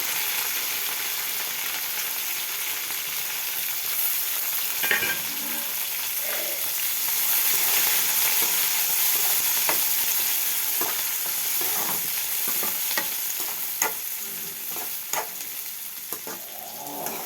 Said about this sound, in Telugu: ఆనియన్స్ కూడా కొంచెం ఆయిల్లో వేగిన తర్వాత పచ్చిమిర్చి, ఎండుమిర్చి, ఆనియన్స్ కొంచెం గోగిన తర్వాత